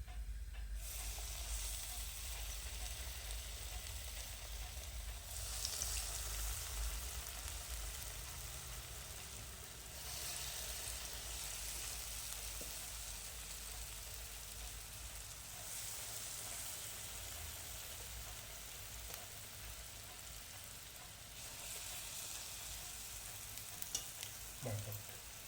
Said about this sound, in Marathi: आता पुढचे वडे आपण असेच या पद्धतीनं टाकून तळून घेऊया.